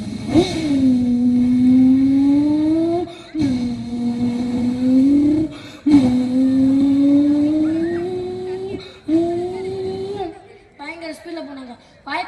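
A man vocally mimics a motorbike tearing past at high speed, producing several long rising engine-like drones with brief breaks between them, loud and close, ending with a few short chuckling sounds.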